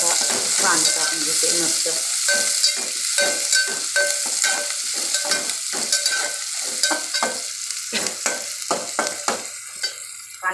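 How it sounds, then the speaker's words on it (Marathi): Chopped onion sizzles and fries in a pan while being stirred, with repeated scraping strokes over a steady crackle; a voice speaks briefly. "कांदा भाजून घ्यायचा आहे मस्त असा"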